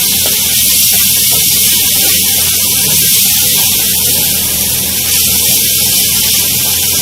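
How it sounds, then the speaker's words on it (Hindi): Mutton keema frying with yogurt in a hot pan, a loud, steady sizzle and hiss running unbroken throughout with no talking. "दही डाल के भी हम इसको भूनेंगे।"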